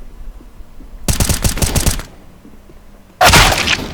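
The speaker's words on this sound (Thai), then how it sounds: "ยิงมากันโปเลย มันยิงทะลุไอ้แผ่นไม้" Automatic gunfire in Counter-Strike: Global Offensive, shooting through a wooden board, comes in two loud, sharp bursts of rapid shots separated by a brief lull, with no talking.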